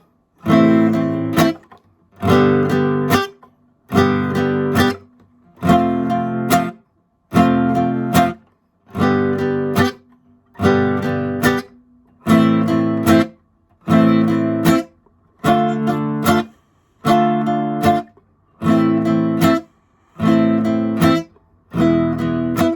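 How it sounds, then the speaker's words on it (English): Rhythmic chord strums on a guitar repeat in evenly spaced bursts with brief silences between, about a dozen strokes, clear and close. "So now I'm going to strum the chord progression."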